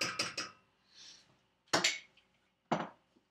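A spoon clinks and scrapes against a pot while peanut butter is stirred into a hot sugar mixture, with a quick burst of three knocks, a soft scrape, then two more separated clanks, fairly close and with no talk.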